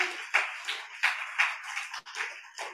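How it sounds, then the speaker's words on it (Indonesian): A church congregation claps hands at a sermon service, a short run of fairly soft, uneven claps with a loose rhythm and brief gaps between them. "Tepuk tangan bagi Tuhan."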